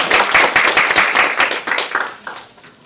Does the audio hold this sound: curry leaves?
no